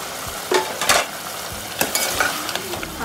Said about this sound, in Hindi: टमाटर और दही डाल के भून लेंगे